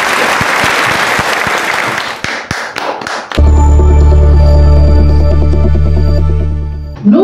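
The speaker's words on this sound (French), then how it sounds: "Est-ce qu'on peut applaudir tous les deux?" Loud audience applause at a French stage show fills the first three seconds with dense clapping, then breaks into a few scattered claps before music takes over.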